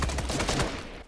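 Rapid gunfire in the video game Fortnite, a dense burst of loud automatic shots in quick succession, close and filling the moment.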